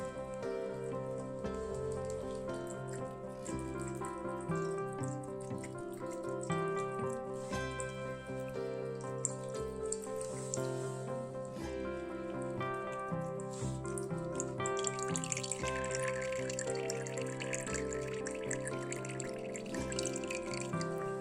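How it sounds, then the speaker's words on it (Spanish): Simulated rain of water falling onto soil protected by vegetation, a steady patter of drops heard throughout, fairly close and continuous, with no talking. "Esto sería esta pequeña tormenta que nos está cayendo en nuestro suelo"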